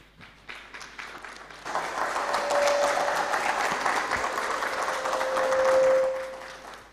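Conference audience applauds as the president of a national company secretaries conference is called to the stage, starting with a few scattered claps, then swelling into steady full applause that fades toward the end.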